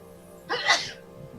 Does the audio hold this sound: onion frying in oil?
no